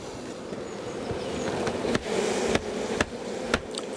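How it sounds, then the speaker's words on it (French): Honeybees in a spring hive inspection drone in a continuous buzzing swarm as a beekeeper shakes them off a dark old comb frame, with several sharp knocks as the frame is jarred. "je vais tout de suite secouer les abeilles"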